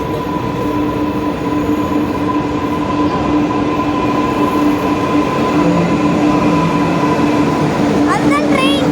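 A metro train pulls into platform 2 on the line to Central, its loud continuous rumble and rail hum carrying a faint wheel squeal, with brief screeching near the end and voices underneath.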